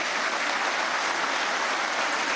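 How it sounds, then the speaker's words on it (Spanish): Sustained applause from an audience at a master class event honoring Bolívar, a dense steady clatter of clapping hands throughout with no speech over it. "Un aplauso del pueblo, de la Fuerza Armada y de todos los presentes aquí."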